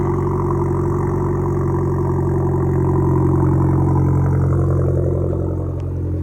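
Close and loud, the Hyundai Genesis Coupe 2.0T fitted with an ISR O2 housing idles steadily after a cold start, a deep, even, throbbing rumble holding constant throughout.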